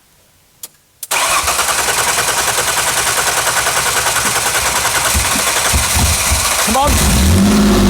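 A car engine cranks and catches after a couple of sharp clicks, then settles into a loud, steady running roar and revs up near the end. Someone briefly speaks over it.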